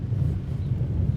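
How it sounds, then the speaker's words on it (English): Steady low wind rumble on the microphone while walking through Cuenca, Spain in light rain, moderately loud and continuous with no speech. "It's very windy out, but that's not gonna stop us."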